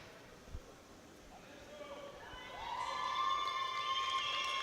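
Home crowd at a world bench press championship, men's equipped 83-93 kg class, cheering and whistling for a Kazakh lifter's 200 kg opening attempt, a diffuse crowd roar that swells and grows louder over a few seconds.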